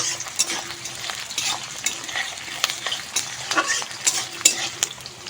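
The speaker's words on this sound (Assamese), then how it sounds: "সেইখিনি মই এতিয়া অকণমান ভাজিম পিঁয়াজখিনি" Onions fry and sizzle in a pan, with steady crackling under repeated stirring and sharp scrapes and taps of a utensil against the metal, close and fairly loud, with no voices.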